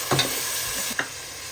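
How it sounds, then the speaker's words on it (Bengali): Onion paste and tomato frying in a pan, a steady hiss of sizzling oil with a couple of soft stirring scrapes, close and moderately quiet with no voices. "পেঁয়াজ বাটা টমেটো দিয়ে দিলাম"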